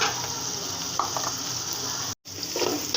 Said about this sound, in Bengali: এখন আমি ভালো করে এটা ভেজে নেব।